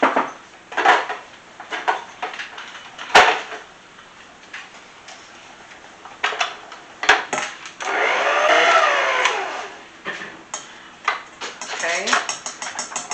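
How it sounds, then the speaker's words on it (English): A stand mixer churns chocolate chip banana nut bread batter, a whirring hum that rises and falls between clinks of utensils against bowls, with a person talking at times. "put this one in the stand mixer? All right. And mix that one up just a little bit too."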